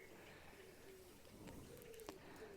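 Faint birds call in the distance, with a few soft coos and chirps scattered over quiet background hiss.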